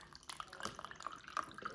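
Filtered water trickles and drips into a pot of rice with olive oil, with soft splashy droplets scattered through the moment at close range.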